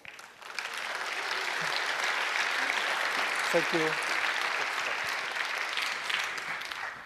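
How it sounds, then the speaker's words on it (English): Sustained audience applause at a hacker conference talk on machines that make machines, a dense and steady wash for about seven seconds, with a speaker briefly talking over it. "So, welcome with a warm applause."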